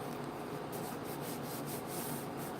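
Fingers rub firmly along a folded paper crease with lace and glue inside, making a soft, steady, close scraping hiss with faint rhythmic strokes.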